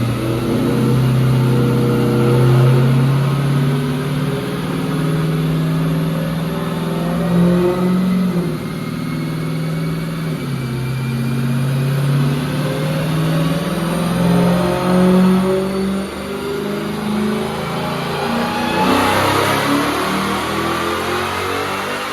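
A Dodge Redeye Hellcat engine roars continuously during a dyno tuning pull, its pitch climbing steadily as the revs rise, loud and close with a whining edge throughout.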